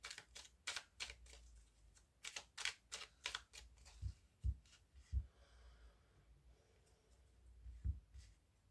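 Tarot cards cut and shuffled in quick, crisp riffling bursts, a run of sharp papery flicks followed by a few softer taps and slaps as the deck is set down, close and alone with no talk.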